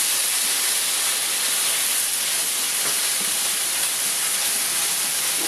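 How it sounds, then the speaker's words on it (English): Shrimp sizzling in Thai red curry in a pan, a steady dense hiss of spattering oil and liquid that stays loud and even throughout, with no talk. "Oh my God, it's popping all over the place."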